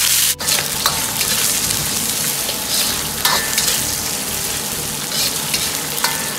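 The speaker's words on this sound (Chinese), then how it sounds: "油热后先下入比较肥的肉，保持中火多煸炒下，炒出肉里边多余的水分和油脂" Fatty pork stir-frying over medium heat in rapeseed oil in a home wok for twice-cooked pork, a loud continuous sizzle with scattered pops and a few sharp scraping strokes, no voices.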